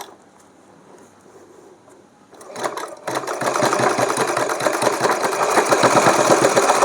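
A sewing machine stitches a small dress for a Laddu Gopal idol, starting with a few quiet pulses and then running in a loud, fast, steady rattle of stitching for the last few seconds.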